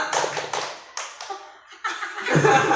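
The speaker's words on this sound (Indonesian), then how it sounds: "Tepuk pramuka" A classroom of students doing the rhythmic Indonesian scout clap (tepuk pramuka), several sharp clap bursts in a patterned sequence with short pauses, fairly close and clear, with a bit of chatter near the end.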